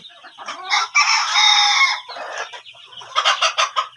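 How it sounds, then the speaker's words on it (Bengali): Fayoumi hens on a poultry farm in Rangpur cluck close by in loud, ragged bursts, including one drawn-out crowing call and a quick run of sharp clucks near the end. "এই যে রানিং ডিম পাড়া ফার্মি মুরগিগুলো এগুলো রানিং ডিম দিচ্ছে"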